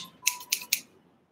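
Scissors snip through macrame cord three times in quick succession, each crisp cut close and fairly loud against a quiet room.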